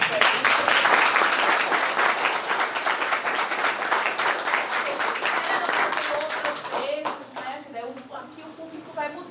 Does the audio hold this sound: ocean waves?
no